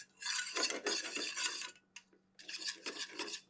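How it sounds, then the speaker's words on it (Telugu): Yogurt stirred in a pot over a low flame for chana dal biryani, heard as steady scraping and rasping strokes against the pot in two long bursts with a short pause between, close and fairly quiet. "ఇలా లో ఫ్లేమ్ పెట్టుకొని కలుపుతూనే ఉండాలి."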